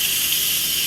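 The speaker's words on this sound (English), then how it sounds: "just to make sure that all the steam is out" Steam hissing out of an Instant Pot pressure cooker during quick release after cooking chicken and wild rice soup, a steady bright airy hiss that holds for the whole short moment.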